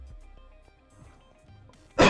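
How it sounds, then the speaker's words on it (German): One short, sharp cough or throat-clear bursts out at the very end, after near-silence broken only by faint soft background sounds. "Muss schon wieder husten."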